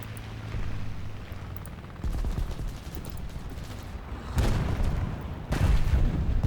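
A bomb explodes during a War Thunder tank battle. Deep, heavy blasts hit in a few separate surges over a low, rumbling background, with no voices.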